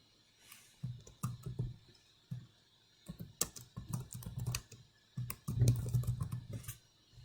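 Fingers type text into a Photoshop text box on a computer keyboard, producing a steady run of close clattering keystrokes in short bursts with brief pauses between them.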